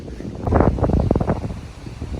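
Strong outdoor wind buffets the microphone in uneven gusts, with low rumbling bursts and rustling that swell and fade over a couple of seconds.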